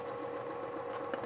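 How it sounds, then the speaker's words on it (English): A sewing machine feeds fabric through for pillow-making, its motor whirring steadily up close with a faint rapid needle rhythm. "I'm just kind of letting the sewing machine do the work as it feeds through there."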